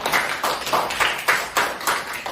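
A classroom of students claps for a classmate in a short burst of applause, with rhythmic, fairly loud hand claps in unison.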